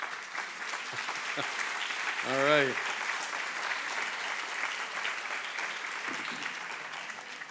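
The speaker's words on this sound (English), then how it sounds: "All of you who agree, please, please clap your hands." Steady audience applause fills a lecture hall at a medical talk on adenomyosis, continuous dense clapping throughout, with someone briefly speaking over it midway.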